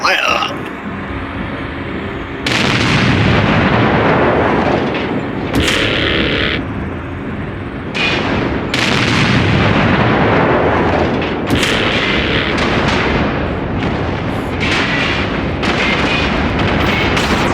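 Weapons fire and blasts in the MechWarrior Online video game sound loud and close, with repeated heavy booms and sharp bursts over a constant rumble, while voices talk over the action.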